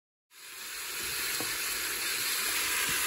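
Oil heating in a cooking pot for a Chinese-style vegetable dish gives a steady, loud sizzle and hiss that starts after a brief silence and runs on unbroken.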